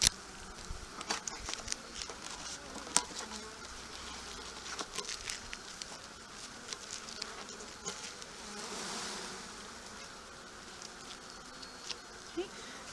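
Honeybees buzz as they are tipped upside down from a box into a hive: a soft, close insect drone with scattered tapping and knocking bumps, fairly faint and with no talk.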